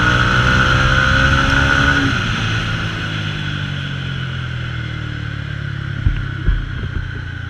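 A modified Mahindra Mojo motorcycle ridden fast on a city street, with a loud, close engine drone whose pitch climbs and then settles into a steady cruise, plus wind rush and a couple of brief thumps near the end.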